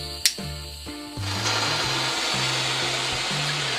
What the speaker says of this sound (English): Let the flame stabilise.